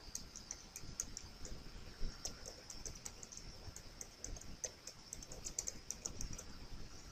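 Typing on a computer keyboard, with steady, rapid key clicks in an irregular rhythm throughout, close and fairly quiet, with no talking.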